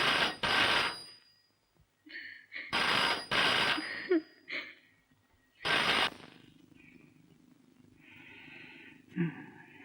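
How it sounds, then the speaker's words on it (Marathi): A telephone rings in several loud, close bursts separated by short silences, with fainter tonal sounds in the quieter gaps. "प्रकाशचा फोन."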